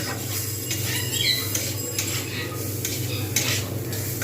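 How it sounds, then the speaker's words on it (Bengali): Mung dal fries in a pan, a steady close sizzle layered with repeated scraping and stirring and light clinks of a utensil, with no speech. "আগে ভালো করে ডালটাকে ভেজে নেব"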